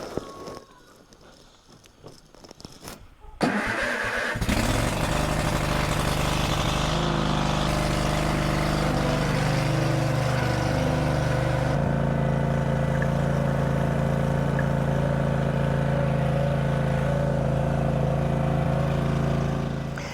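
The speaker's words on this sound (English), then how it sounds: "I'm going to take it out, do a few laps, get the engine going, and bring it back." A Cub Cadet RTZ riding lawnmower engine starts after a brief quiet moment and then runs continuously at a steady, loud idle, with a slight shift in pitch midway as it keeps going.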